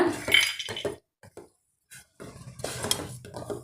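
Sweet boondi being stirred by hand in a pot in a home kitchen after yellow colour and cardamom powder are added, with close spoon scrapes and clinks against the pan in bursts, then brief quiet, then steadier stirring.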